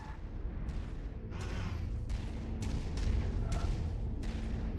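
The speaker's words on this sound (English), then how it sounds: "Someone's shooting at me" Gunfire and cannon shots in a MechWarrior 5 Mercenaries battle, a series of heavy booming reports every half second or so over a constant low mechanical rumble.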